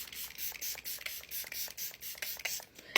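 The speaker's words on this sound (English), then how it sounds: "we're going to go in with the Glow On Glock Setting Spray by Hard Candy." Hard Candy Glow On setting spray misted in a series of short, quick, hissing bursts in a fairly steady rhythm, close to the microphone, with no talking.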